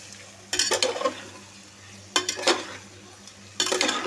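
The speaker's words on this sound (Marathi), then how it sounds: "चांगलं हलवून घेतलंय।" Mixed vegetables for pulao fry in a pan. Three distinct bursts of spoon-stirring scrape rise over a low, steady sizzle and hum, with quiet gaps between them.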